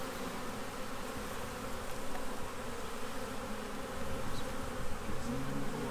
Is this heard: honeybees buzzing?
yes